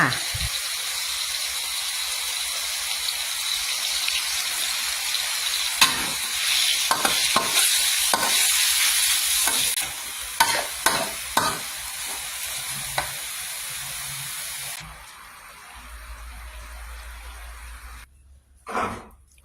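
Food being stir-fried in a pan gives a steady hissing sizzle, broken by a run of sharp scraping strokes from the stirring utensil, then a brief low bubbling near the end.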